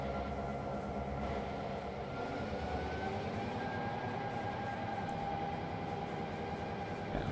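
A coal train running in the Trainz railway simulator, a steady low rumble of wheels and engine with a faint whine above, continuous and moderately quiet throughout, no voices.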